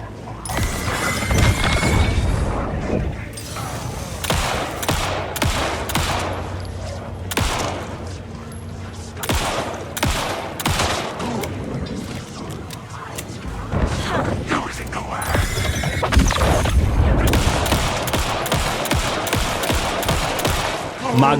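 Rapid gunfire in the video game Alan Wake 2, a loud sustained burst of shots as a magazine is emptied, dense cracks and bangs repeating for the full stretch with brief gaps between volleys.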